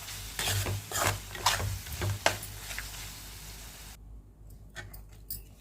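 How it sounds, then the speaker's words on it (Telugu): A salted raw mango mixture for mango pulihora is stirred by hand in a pan, giving soft scraping and rhythmic swishing strokes at close range, then a brief quieter pause before the stirring resumes, with no one talking. "ఇప్పుడు ఉప్పు వేసిన తర్వాత 2 మినిట్స్ ఇలా కలుపుకోవాలండి"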